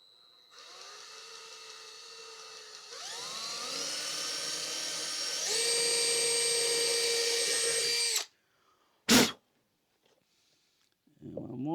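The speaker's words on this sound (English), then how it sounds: "I can drill my holes." A power drill bores holes in wood for a miter saw cart build, its motor whine rising in steps over several seconds before stopping abruptly, followed by a short burst and a brief voice at the end.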